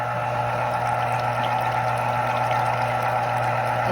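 An electric citrus juicer runs steadily while squeezing lemon or orange halves, a continuous loud motor whir and hum that holds constant throughout without pauses or talking.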